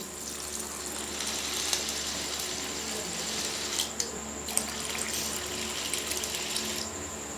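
Water runs steadily from a tap or pours onto lentils in a container, a continuous hiss with occasional small splashes and clinks.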